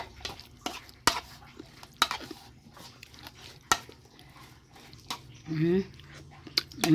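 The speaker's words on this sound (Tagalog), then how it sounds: "Mikos-mikos natin ulit." Kinilaw na guso, a raw seaweed salad, is tossed and mixed by hand in a bowl, making wet squelching and sharp clicking sounds in short bursts, while a person's voice appears briefly.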